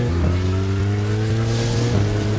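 A car's engine drones steadily and loudly as it drives through a rainstorm in the video game Deadly Premonition, with harmonic tones that hold nearly level throughout.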